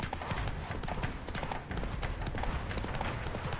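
Galloping horse hooves in The Witcher 3, a rapid continuous patter of clip-clop beats over dense game background noise, steady and fairly close throughout.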